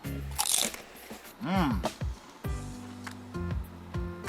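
Spicy nacho Beanfields vegan cracklins being bitten and crunched up close, a few sharp crunches amid people talking.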